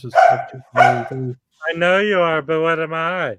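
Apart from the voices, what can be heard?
dog barking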